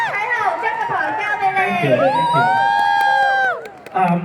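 Audience cheering and clapping at a Christmas shopping-festival stage show in Wan Chai, Hong Kong, as a singer takes the stage, a lively crowd roar under a host's loud talk that cuts off near the end.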